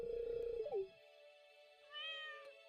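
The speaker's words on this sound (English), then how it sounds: "Oh, I get my kitty." A short cartoonish cat meow from the Stardew Valley video game, a clean, synthetic-sounding call over a tonal game chime, followed by a quieter second meow.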